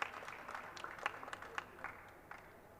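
Audience applause at a COP27 pavilion closing event in Sharm el-Sheikh: a faint, steady patter of clapping from a modest crowd, with a few sharper individual claps standing out, continuing throughout without speech.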